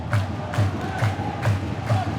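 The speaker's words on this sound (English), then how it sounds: "Crowd really getting behind them here now." Crowd at an ice hockey game in Braehead Arena cheering in rhythmic surges, roughly every half second, like a chanted or clapped chant, loud and continuous.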